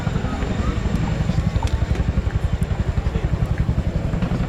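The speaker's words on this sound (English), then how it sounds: "Coops will manoeuvre the aircraft forward and down away from the load to allow the troops to disembark" A military transport helicopter manoeuvres at the RAF Cosford airshow, its rotor making a loud, steady rhythmic thudding with a continuous engine whine and faint crowd noise.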